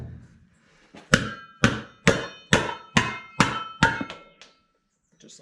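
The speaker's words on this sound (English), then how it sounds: "Maybe I have a hammer for this." Sharp metallic hammer blows on sheet aluminum ring out, about eight strikes at a steady pace, each with a bright clanging tail, loud and close.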